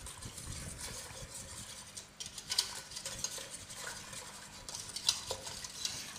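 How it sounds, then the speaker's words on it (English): A whisk beats plant-based pecan and walnut patty ingredients in a bowl, giving quiet, irregular stirring scrapes with a few sharper metallic clinks against the bowl and no talking. "All these ingredients will be mixed together with my whisk."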